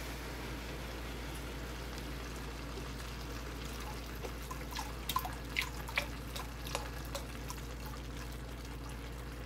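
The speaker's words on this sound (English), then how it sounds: "I'm going to add 2 cups or so of chicken broth." Chicken broth is poured into a soup pot for split pea soup, a faint trickle with a few soft drips and splashes in a quiet kitchen.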